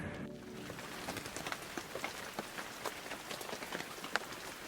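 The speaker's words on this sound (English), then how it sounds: "when I actually try to start shooting, it starts raining all over me" Rain falls outdoors in the city's Logan Square, a faint steady patter with scattered distinct drops ticking on nearby surfaces.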